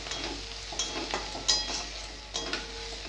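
Fried onions with ginger paste and ground chili, turmeric, cumin and coriander stirred in a pan, soft sizzling under irregular scrapes and clinks of a spoon against the metal, close up and with no talking.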